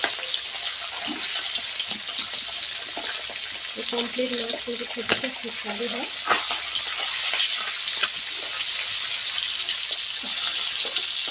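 Pomfret fish fries in a pan with a continuous crackling sizzle, joined now and then by clinks and stirring sounds while someone talks over it.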